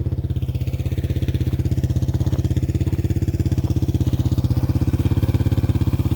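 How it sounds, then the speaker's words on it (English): Yamaha TW200 motorcycle ridden on frozen winter roads in low gear, a steady close-up single-cylinder engine thump with an even pulsing rhythm, loud and continuous, no talking. "I'll admit it takes a certain kind of crazy to ride down frozen roads in the middle of winter on a motorcycle."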